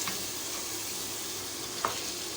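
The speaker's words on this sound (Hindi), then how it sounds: "कबाब डालने के बाद आप उसको फिर भूनिए, 5 से 7 मिनट तक इसको भूनते रहिए।" Kebabs frying in a pan of tomato gravy, a steady close hiss and sizzle with a single sharp clink of a utensil against the pan.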